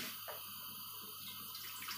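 Tap water runs steadily into a sink while tom yum shrimp soup is being prepared, a continuous close hiss and splash with no talking.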